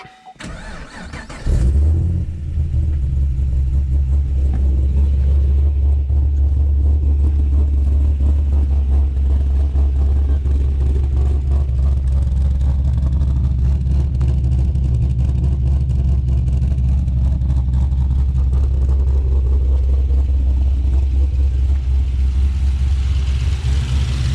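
An HSV Clubsport Gen F with a mild aftermarket cam cranks and fires, then settles into a loud, steady, deep idle rumble that holds close to the listener for about twenty seconds.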